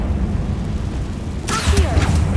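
A Confringo blasting spell explodes in the Hogwarts Legacy video game, a sudden bright burst with fizzing crackle and low rumbling boom cutting in over a steady background hum.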